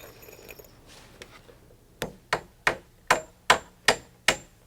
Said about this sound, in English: Then positions and nails the middle stringer.